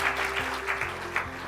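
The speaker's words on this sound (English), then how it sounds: "Another round of applause." Audience applause at a pitch competition grand finale, a brief burst of clapping from the crowd with some background tones underneath.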